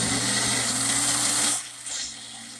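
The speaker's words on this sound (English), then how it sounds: "we're just going to plop it into the blender that I have here. I got a magic bullet." A Magic Bullet blender whirs as it mixes pumpkin bread batter, a loud, steady motor whine that drops off sharply partway through and then gives a short, weaker burst before stopping.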